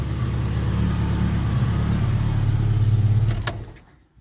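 A Ford Capri's Pinto engine with a twin-choke Weber carburettor idles steadily close by, a low uneven chuff from a leaking exhaust manifold running through it, before a couple of sharp clicks and the engine cutting off near the end.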